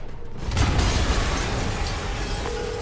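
An explosion tears through a building in the Spider-Man video game: a sudden loud boom after a brief quiet moment, followed by a long rumbling, debris-filled roar that slowly fades.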